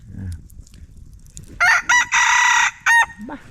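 A rooster crows loudly and close by, a long harsh cock-a-doodle-doo broken into several bursts over quiet background.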